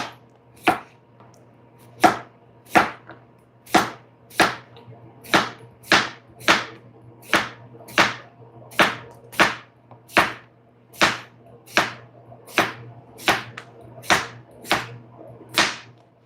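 A knife slices through a whole cucumber on a cutting board, about twenty crisp, sharp cuts in a steady, even rhythm, close and loud with quiet gaps between strokes.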